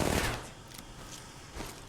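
Gunfire in an Apex Legends firefight, a few quick bursts of distant shots with crackling impacts, faint and scattered over a short span.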